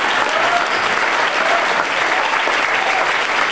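Audience at a Filipino talk gives a steady, close round of applause. The clapping is dense and continuous throughout, with no speech over it.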